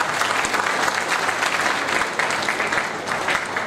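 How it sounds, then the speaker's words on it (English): Conference audience applause in a hall, a steady, dense patter of many hands clapping at an even, moderate level with no speech over it. "give a round of applause once again"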